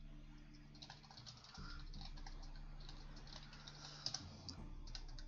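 Soft, quick keystrokes on a computer keyboard patter continuously under a low hum of room noise, with a brief louder clack near the end.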